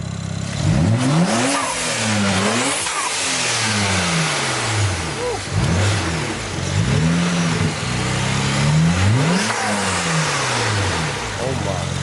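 A custom-tuned BMW 335i engine with upgraded turbos revs repeatedly, rising and falling in pitch several times, loud and close, with voices talking over it.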